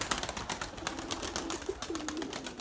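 Pigeons coo softly in a loft, a few low repeated calls over a steady background of rustling and noise.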